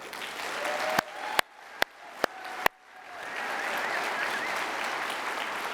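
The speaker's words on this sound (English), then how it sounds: "every one of those volunteers right now deserves an incredible round of applause" A few loud, sharp claps ring out one by one before a gala audience fills in with sustained, moderately distant applause in a large room.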